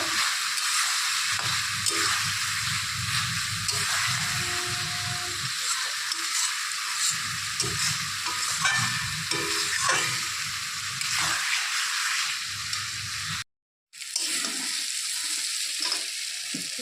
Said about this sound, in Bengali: এখন সব কিছু ভালো করে কষিয়ে নেব।